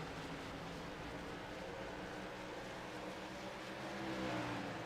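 Race trucks run at speed on the Charlotte Motor Speedway, a continuous engine roar heard from a distance that swells a little near the end as they pass, with no voices.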